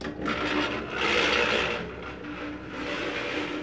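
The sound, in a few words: grain mill running to make chicken feed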